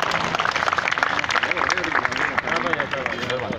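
Applause for an award recipient at an iftar dinner for municipal employees in Attock, Pakistan, with steady clapping mixed with crowd murmur and a voice speaking over it throughout.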